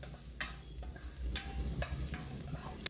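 Garlic and onion sautéing in a pan for a tilapia and tomato dish, a steady close sizzle with a few sharp clinks of a utensil stirring against the pan.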